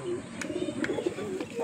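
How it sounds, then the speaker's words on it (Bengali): A male Madrasi pigeon from a breeding pair coos in repeated low, throaty rolls close by, with a few faint clicks and rustles between phrases. "এটা নর পায়রা আছে"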